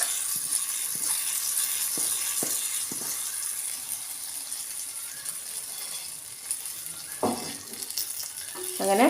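Hot tempering (thalippu) poured into pal kappa, a steady broad sizzle of oil running throughout with a few small clinks and a spoon or pan knock near the end, no voices.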